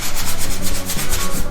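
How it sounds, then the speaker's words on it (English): A foam sanding block rubs back and forth over an auto body finish, making a steady, close rasping scrape in quick repeated strokes with no voices. "These are like foam sanding blocks, but instead of just being blocks, they're actually like sandpaper in themselves."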